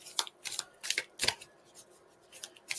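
A tarot deck is shuffled by hand, a run of quick crisp riffling and flicking bursts, close and fairly quiet, irregular with short pauses between bursts and no talking.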